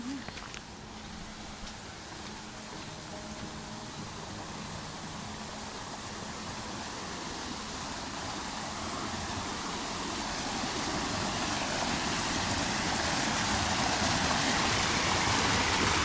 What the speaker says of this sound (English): Is that a waterfall over here